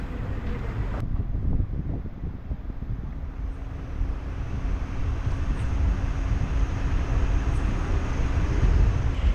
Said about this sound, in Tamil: இப்போது ராஜபாளையத்துலேருந்தும் ட்ரெயின் ஸ்டார்ட் ஆகிடுச்சிங்க